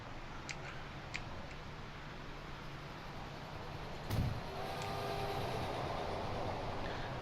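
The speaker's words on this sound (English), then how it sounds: "We're gonna get this train up and running." A train in the video game Transport Fever starts up and runs, a soft burst followed by a steady rolling rumble with faint rhythmic clicks over constant background noise, no talking.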